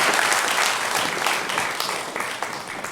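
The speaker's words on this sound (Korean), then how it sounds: "영광의 박수를 우리 하나님께 올려드리겠습니다." A church congregation claps together during a Sunday morning service, a dense, sustained burst of applause that fills the room for a few seconds.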